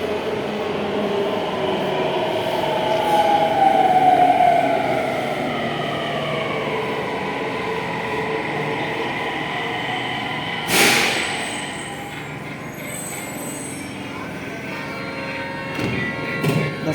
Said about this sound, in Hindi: 10-5 मिनट तक वेट करते करते मेट्रो आ गई